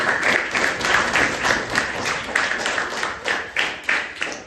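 A school audience gives loud, sustained applause after a students' vegetable-fair play, with many hands clapping in a dense, rhythmic wash that swells and dips across the clip.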